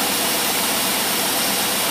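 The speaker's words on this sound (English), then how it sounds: "that puts a load on the engine" An engine idles steadily and loud at close range, a dense continuous drone with no change in pitch or level over the short stretch and no voices.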